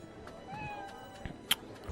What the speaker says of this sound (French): Ok, on a entendu un chat.